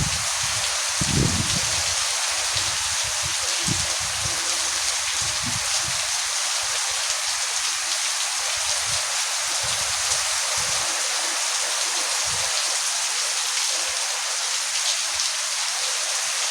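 Heavy monsoon rain pouring down in a village during the Sawan season, a loud, constant hiss of downpour with scattered low thuds and splashes underneath.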